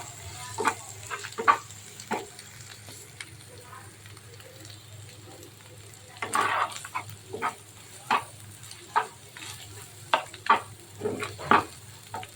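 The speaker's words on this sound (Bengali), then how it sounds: "এখন চিকেনের সাথে মিশিয়ে নিলাম" Fried egg stirred together with chicken in a pan for chicken pasta, giving sharp, repeated scrapes and clicks of the utensil against the pan over a low, steady sizzle, close up. Someone talks intermittently.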